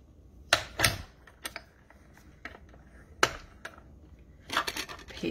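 A cutting machine slicing through thick layered acetate and paper on a second pass, giving irregular sharp clacks and crunching bursts separated by quieter mechanical whirring, close and moderately loud.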